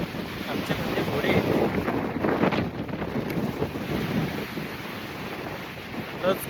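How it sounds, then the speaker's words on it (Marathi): A rough sea surges along the Konkan coast at Navgaon near Alibag, waves washing in under heavy wind buffeting, loudest early then easing to a steadier rush. "आणि असा खवळलेला समुद्र"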